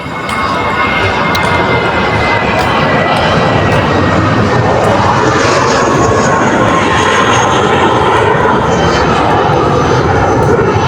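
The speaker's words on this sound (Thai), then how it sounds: "นี่เสียงเครื่องบินมาบ้านอยู่ใกล้กับ" A loud airplane roars continuously overhead near an airport, a broad rumbling engine noise that fills the whole stretch without letting up.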